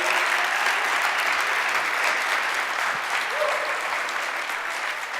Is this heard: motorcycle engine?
no